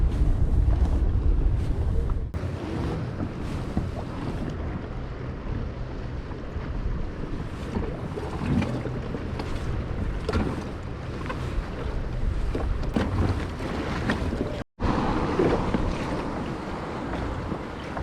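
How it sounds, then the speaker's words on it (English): A rescue motorboat's engine drones nearby as it passes, amid wind buffeting and splashing water, steady and loud for the whole stretch with a brief dropout near the end. "Bit of boat rescue stuff coming, so gotta move out of the way"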